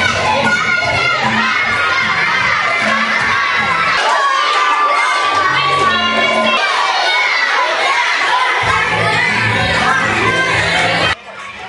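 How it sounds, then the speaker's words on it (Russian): A crowd of young child spectators at a sports relay competition shouts, cheers and applauds continuously and loudly, a dense excited din that holds steady throughout before cutting off abruptly near the end. "А маленькие зрители поддерживали обе команды, их победы и небольшие поражения дружными аплодисментами."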